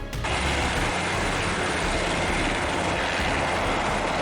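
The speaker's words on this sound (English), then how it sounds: "Helicopter rotors slashed through the freezing air" Helicopter rotors in freezing air during a raid on a fortified compound, a loud, steady, continuous engine and rotor roar throughout with no talking.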